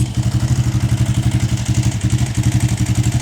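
A Honda CG motorcycle engine idles loudly nearby with a rapid, even thumping pulse, steady throughout and without talk.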